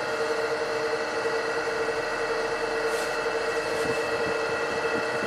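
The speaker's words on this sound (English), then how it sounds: "Do max AC, here we go." A Buick with a 3800 engine runs its air conditioning on max, giving a steady, loud broadband blower rush with constant hum and no speech.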